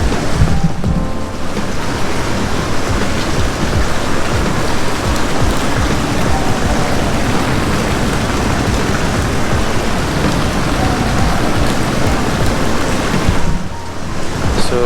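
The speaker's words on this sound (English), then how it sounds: "It's raining now" Steady heavy rain pours onto an outdoor hotel swimming pool in Bangkok, a dense, loud, unbroken hiss and patter lasting the whole stretch with a wind-like rush behind it, no voices heard.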